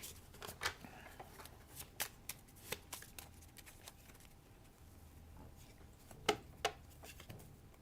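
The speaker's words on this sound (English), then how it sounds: "And then we shuffle" A deck of Marvel Champions game cards is shuffled close by in a quiet room, giving a run of soft riffling bursts and sharp card snaps spread across several seconds, with no talking.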